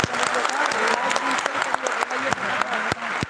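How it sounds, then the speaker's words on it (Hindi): An audience claps at a 2024 anniversary program with a Hindi poetry recital, a dense burst of applause with sharp individual claps standing out and a few voices mixed in. "एक बार तालियां बजा के"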